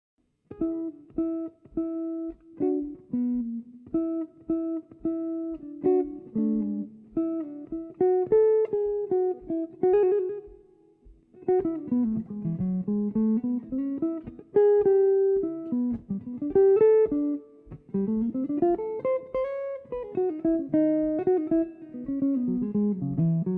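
A clean jazz guitar plays a quick melodic phrase of arpeggiated notes, moving up and down with short pauses, solo and fairly soft.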